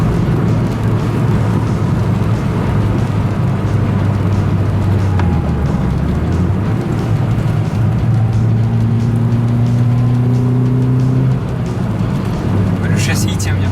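A 2009 Renault Twingo 2 RS with its 133 hp 1.6-litre four-cylinder engine while driving, heard as a steady, loud cabin drone over road rumble, with engine tones that shift and climb as the car accelerates.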